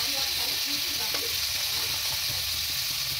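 Ginger-garlic paste and turmeric, spices for a chicken curry, sizzle and fry in hot oil with a loud, constant hiss and faint stirring underneath.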